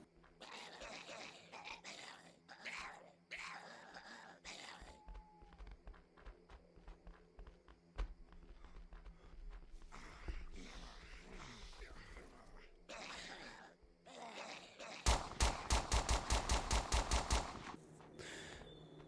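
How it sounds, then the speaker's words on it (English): Zombies batter and claw at new barricades in the survival game Survive the Nights, a rough stretch of thuds, growls and scraping under game ambience that ends in a loud, rapid burst of impacts near the end. "I'll show you this video quick of the zombies attacking the new barricades"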